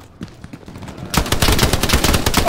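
Rapid bursts of gunfire in a shooter video game, starting sparse and faint, then erupting into dense, loud automatic fire that continues to the end, with no voices.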